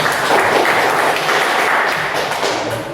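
A classroom of students claps together in a brief, loud burst of applause, dense and close, lasting about three seconds.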